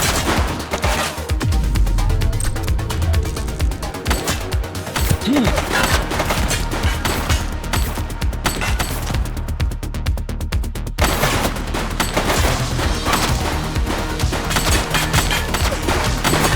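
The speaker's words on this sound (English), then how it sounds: "He's shooting!" Sustained rapid gunfire from The Precinct video game, a police game, with dense automatic bursts and booming shots running loud and continuous throughout, over steady background game sound with a brief voice.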